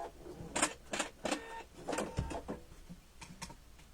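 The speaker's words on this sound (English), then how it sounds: "Rusty Barnes said to slow down, Speedy, you're going to sew your finger." A sewing machine runs in short bursts while stitching a pillowcase, with quick whirring runs separated by brief pauses, fairly quiet and close, with no talk.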